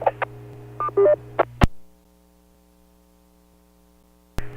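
An amateur television repeater in Seattle drops off the air: a few short electronic beeps and a sharp click, then a steady low electronic hum with faint static that cuts off abruptly near the end.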